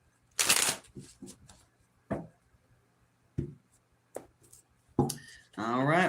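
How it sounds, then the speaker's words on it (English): A tarot deck is shuffled by hand in a series of quick riffles and taps, with irregular bursts and gaps between, close up, and a voice speaks briefly toward the end. "Let's do 2 more shuffles for Aquarius"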